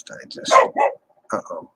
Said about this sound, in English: That's a dog bark.